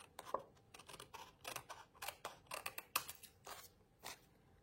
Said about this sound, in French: Et je vais venir couper le surplus en m'alignant contre le papier blanc